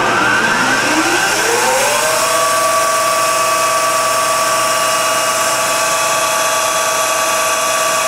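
K&T Model 205-S-12 vertical milling machine spindle spinning up to about 2,000 RPM, a rising whine that levels into a steady loud mechanical hum with sharp tonal overtones, no talking.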